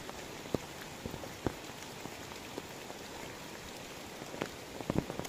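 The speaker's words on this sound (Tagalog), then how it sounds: "huminto din ang ulan, tapos ayan lumakas na naman ulit" Steady rain falls on a surface as a downpour picks up again, with a continuous dense patter and scattered louder drops striking close by, no voices.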